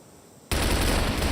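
Rifle fire erupts in a CrossFire match at a tournament, a sudden dense burst of rapid automatic shots that cuts in loud after near silence and keeps going.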